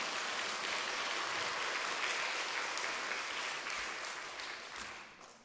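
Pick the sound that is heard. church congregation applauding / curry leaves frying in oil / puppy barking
church congregation applauding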